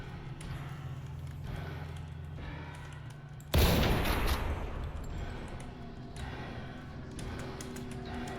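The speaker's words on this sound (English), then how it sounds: "Putting the red gemstone into that socket turns on the fire for whatever reason." A fire in a video game bursts on with a sudden loud whoosh and crackle that slowly fades into a steady roar, set over a low ambient drone.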